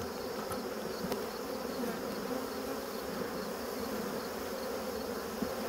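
Honey bees buzz steadily in an open hive, a dense, continuous close-up drone with no voices.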